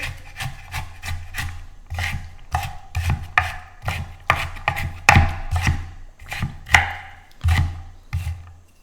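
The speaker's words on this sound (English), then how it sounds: "So you can chop fennel and make fennel celery salad." Close, crisp knife chops on a board as fennel and celery are cut for a raw salad, about twenty quick strikes in an uneven rhythm with no talking.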